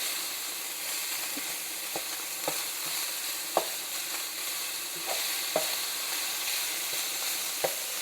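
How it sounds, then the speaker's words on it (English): Ground beef frying in a pan on a stovetop, a steady close sizzle and hiss with scattered small pops and occasional stirring scrapes, no voices. "I want to make sure all this ground beef is done"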